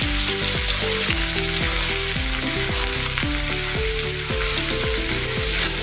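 Finely chopped onion and a little green chili frying in a pan with cumin, stirred with a spoon: a continuous close sizzle that runs throughout, with steady tonal music layered over it.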